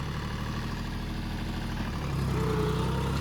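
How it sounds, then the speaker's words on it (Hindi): A John Deere four-wheel-drive tractor runs in gear with a steady, deep engine drone and low rumble, close and continuous, rising slightly in intensity partway through with no talk over it. "फिलहाल ये ट्रैक्टर चल रहा है पहले के हाई में और चौथे का लो लगाई है"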